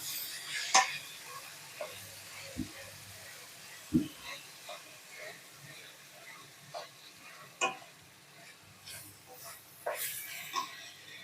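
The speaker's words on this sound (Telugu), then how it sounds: "మిక్స్ చేసుకోవాలి." Ridge gourd and tomato pieces stirred in a pan, a sparse run of faint scrapes and soft clicks of a spoon against metal, irregular and quiet over a light background sizzle.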